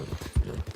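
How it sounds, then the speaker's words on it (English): Horse hooves clip-clopping in the video game Red Dead Redemption II, a steady run of soft low thuds at a walking pace, one heavier step standing out midway. "Looks like the horse might be hungry again."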